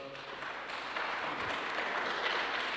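An audience at a debate in Cape Town claps in steady, dense applause, fairly distant and soft, continuing without talk for a few seconds.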